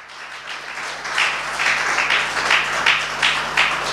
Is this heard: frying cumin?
no